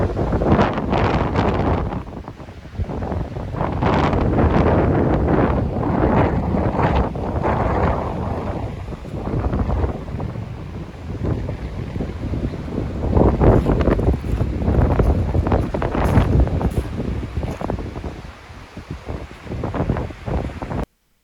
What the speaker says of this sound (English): It's really, really windy up here.